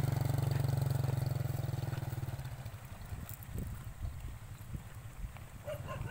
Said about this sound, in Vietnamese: Giờ bạn em nó chạy xe máy để cho em đi bộ